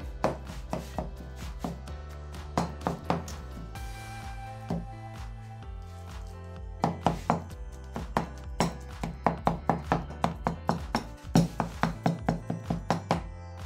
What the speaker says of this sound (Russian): Измельчаем баклажаны ножом.